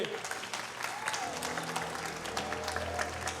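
An audience applauds a band at a live show, steady dense clapping mixed with crowd murmur and a faint low musical hum underneath throughout.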